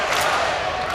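A packed arena crowd cheers and roars steadily through a Friday evening Hawaii vs Loyola Chicago match, a dense, continuous wash of voices close around.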